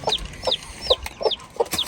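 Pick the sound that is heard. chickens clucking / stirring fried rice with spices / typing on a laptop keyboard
chickens clucking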